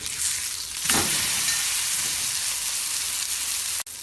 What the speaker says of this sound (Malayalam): ഇതിലേക്ക് കുറച്ച് കറിവേപ്പിലയും ഇട്ട് കൊടുക്കാം. ഒരു സൈഡ് കുറച്ച് ഫ്രൈ ആവുമ്പം തിരിച്ചിടാം.